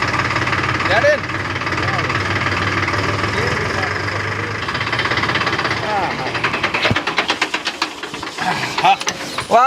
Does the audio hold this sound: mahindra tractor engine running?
yes